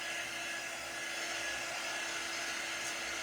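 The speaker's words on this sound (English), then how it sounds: "So I'm just going to dry these, making sure I'm moving around and not concentrating all the heat in one area" Heat drying screen-printed ink on a t-shirt, with ink mats underneath: a steady, even blowing hiss of hot air that runs unbroken and fairly loud for the whole stretch, with no voices.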